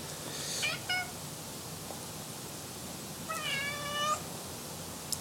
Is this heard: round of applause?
no